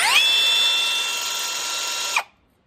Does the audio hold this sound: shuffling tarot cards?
no